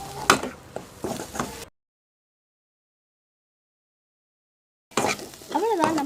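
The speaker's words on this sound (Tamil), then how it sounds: "நல்லா கிண்டி விட்டுக்கோங்க." Spiced onion samosa filling is stirred in a pan, giving scraping, soft sizzling bursts close by. A long silent gap interrupts the stirring before it resumes, with a voice talking over it.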